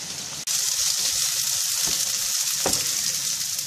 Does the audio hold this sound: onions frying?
yes